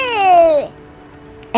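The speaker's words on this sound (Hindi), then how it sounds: "ये बच्चे के रोने की आवाज कहाँ से आ रही है" A cartoon baby's wailing cry, loud and drawn out with a falling pitch, stops abruptly and gives way to near silence and a faint hum.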